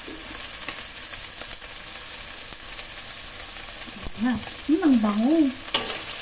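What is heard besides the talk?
sautéing shrimp paste (bagoong) for pakbet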